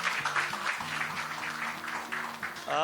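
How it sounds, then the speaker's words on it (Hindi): Audience applause fills the room in a continuous patter of many hands, moderately distant, with a low voice or hum running faintly underneath. "इस बात के लिए तालियां बजाई"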